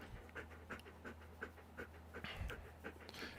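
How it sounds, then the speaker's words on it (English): A happy pet dog pants steadily and close by, short rhythmic breaths repeating about three times a second over faint room noise. "There's your cute doggo"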